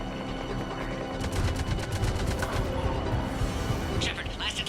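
Sustained gunfire from a Mass Effect 3 firefight, rapid bursts of shots crackling in a dense, loud battle mix with a sharper burst near the end.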